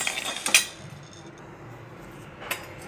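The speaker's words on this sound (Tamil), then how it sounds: "மிளகு பொரிஞ்சிருச்சு." Black peppercorns dry-roasting in a pan without oil for Tamil idli powder: a sharp metallic clink near the start and another a couple of seconds later, with faint, quiet rustling in between and no talk.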